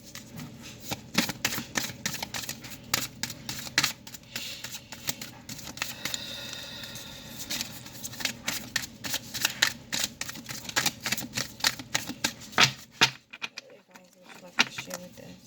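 A deck of cards is shuffled close by in a quiet room, with rapid, irregular riffling flutters and snaps that come in bursts before stopping near the end.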